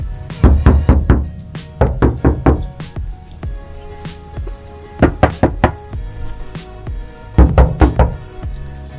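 Knocks on the body panel of a 2017 Honda Brio fitted with sound-deadening material, in quick clusters of five or six raps separated by short pauses; each hit is dull and thuddy, with nobody talking.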